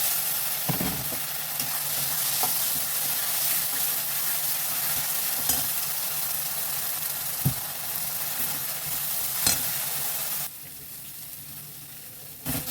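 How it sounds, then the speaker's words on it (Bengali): Spice paste with turmeric fries and is stirred in a hot pan on a gas flame, giving a steady loud sizzle with occasional scraping taps, and the frying noise drops abruptly near the end. "দেখুন ভাজা করে দেখুন গরম হতে আবার খুব সুন্দর লাগে"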